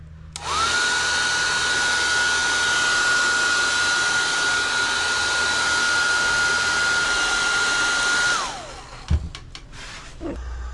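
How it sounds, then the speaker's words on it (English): Heat gun warming stiff new intake manifolds: a steady blowing roar with a constant whine that runs for about eight seconds and then cuts off, followed by a few close handling knocks. "heat them up a little bit with the heat gun"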